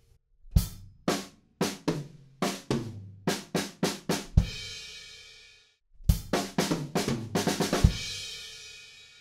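Drum fill before the bridge of a song, played alone as a run of sharp close hits in two quick bursts with a cymbal crash ringing out between them.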